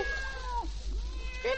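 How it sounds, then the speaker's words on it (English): A cat gives a few wavering meows, near and clear, with a rising cry at the end, over a faint hum. "Oh, look, here comes the kitty cat."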